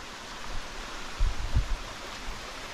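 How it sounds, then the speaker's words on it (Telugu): Water rushing at a waterfall in the Srisailam forest makes a constant broadband roar, joined by a couple of low thumps near the middle. "ఇలాంటి మంచి మంచి వాటర్ ఫాల్స్ ఉంటాయి"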